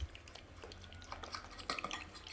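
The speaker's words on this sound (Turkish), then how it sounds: "Şimdi birazcık karıştırıyorum." A slime mixture stirred in a container, giving soft, wet sticky clicks and squelches in an irregular rhythm, close up and fairly quiet.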